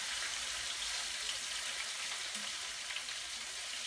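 Chicken fingers fry in hot oil with a steady, bright, crackling sizzle that holds at a constant level throughout, close and uninterrupted, with no talking.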